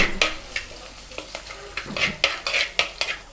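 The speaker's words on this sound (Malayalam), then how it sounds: "ഇഞ്ചിയും വെളുത്തുള്ളിയും പച്ചമുളകും എല്ലാം നന്നായിട്ട് വഴറ്റി വന്നിട്ടുണ്ട്" Ginger, garlic and green chillies sautéing in a pan, a bright sizzle broken by a rapid series of spatula scrapes and taps, close and fairly loud.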